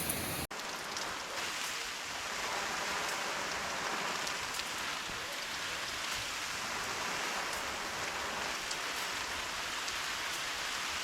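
Hard, steady spray of water drumming against the side of a Tidewe see-through hunting blind, a dense continuous hiss like heavy rain on fabric, loud and unbroken throughout.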